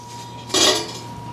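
A single brief clatter as a pork loin is lifted out of a clay roaster pot, a short ceramic-and-utensil knock against quiet room tone.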